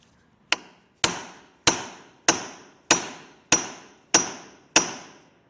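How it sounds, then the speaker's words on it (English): Hammer blows on rafters at a sweet gum ridge pole, wood as hard as oak: eight sharp, evenly spaced strikes about every half second, close and loud with brief ringing decay. "I just hit the ridge pole, so let's let you listen here."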